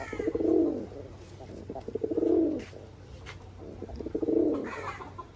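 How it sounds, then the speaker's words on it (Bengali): Pigeons coo nearby at a pigeon market in three slow, rounded phrases spaced about two seconds apart, with a quiet hum underneath. "দেখছেন এতক্ষণ কবুতরের ভিডিও করলাম"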